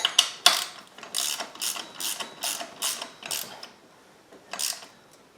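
Ratchet wrench tightening a bolt on the alternator bracket of a 2007 Buick Lucerne 3.8, giving about nine quick bursts of clicking in uneven succession, close and clear with no talking.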